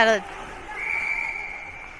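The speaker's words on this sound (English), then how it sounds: "got a whistle for the net being off" A referee's whistle at a 16U ice hockey game sounds as one sustained shrill tone, heard faintly behind a commentator's voice.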